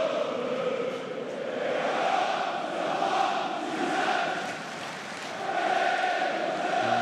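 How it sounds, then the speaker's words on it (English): A football crowd at a Birmingham City match applauding and roaring, a steady wash of massed noise from the stands that swells and eases in waves, with no distinct voice on top. "Still the applause rings around for Mark Leonard."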